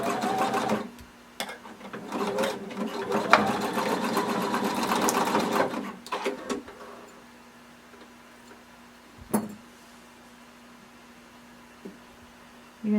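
A sewing machine stitches down the elastic strap of a swimsuit in a steady, close run for about five seconds, then stops, leaving a quiet room with a faint hum and a few small clicks.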